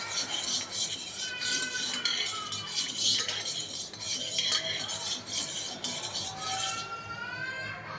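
A spoon stirs turmeric and salt into water in a pot for khichdi, making a quick run of soft clinks and scrapes against the metal, close and moderately quiet.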